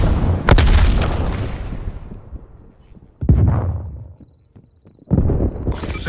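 Frag grenade explosions in the video game Call of Duty Black Ops Cold War. There are three heavy, booming blasts, each with a long rumbling decay, the last one cut short, all loud and close with no talk.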